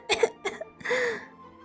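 A she-cat coughing in a narrated story: a few harsh, close coughs in quick succession, then a strained, drawn-out wheezing hack that fades, with no other talk.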